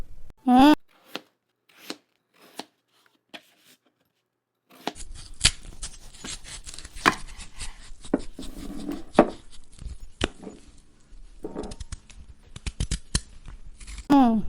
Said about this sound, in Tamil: நம்ம காய்கறிலாம் நறுக்கிடலாம்